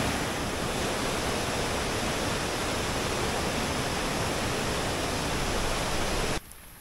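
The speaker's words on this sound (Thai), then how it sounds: "โอ้โหน้ำตกสวยมากๆครับ" A waterfall roars as a steady, dense rush of falling water, loud and constant, with no voices, cutting off abruptly near the end.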